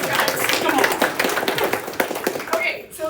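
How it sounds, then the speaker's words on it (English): Brisk clapping from a tech user group audience in a meeting room, close, distinct claps in a lively patter over roughly three seconds while a voice speaks over it. "So that deserves a bigger applause"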